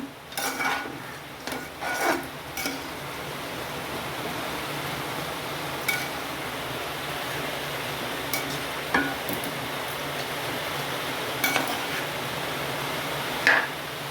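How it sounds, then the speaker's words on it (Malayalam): Beef being stirred into curry masala in a pot, with repeated scraping and rubbing strokes and occasional clinks of a utensil against the pot, close and fairly quiet. "ഇതിലേക്ക് ഇനി ഇറച്ചിടാം ഇട്ട് ഇനി ഇളക്കി കൊടുക്കുകയാണ്"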